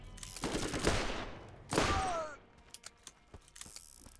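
Gunfire in the Borderlands video game, two loud sustained bursts of shots followed by a scatter of sharper single shots tapering off, with a brief rising whine between.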